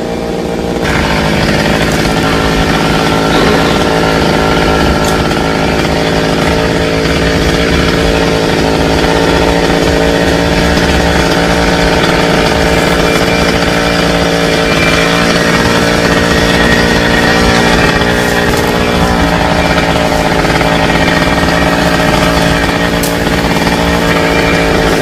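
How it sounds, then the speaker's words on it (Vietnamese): A chainsaw cuts branches from a tall sao tree near power lines and a roadside, its engine roaring loud and close in one continuous, unbroken whine with no speech. "nên cưa mấy nhánh bớt."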